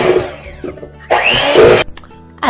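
Electric mixer beating sour cream walnut cinnamon coffee cake batter, loud close whirring in uneven bursts separated by short pauses.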